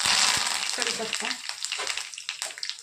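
Curry leaves and mustard seeds hit hot oil and sizzle loudly at first, then crackle and pop irregularly as the frying settles, close up with a faint clink of stirring.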